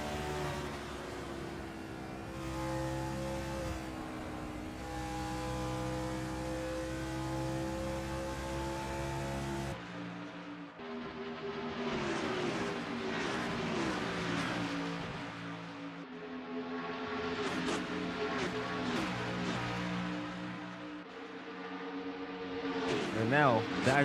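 Stock car race cars roar around the Brickyard oval, engines droning steadily and loudly with shifting pitch as cars pass, running continuously under a race commentator's voice.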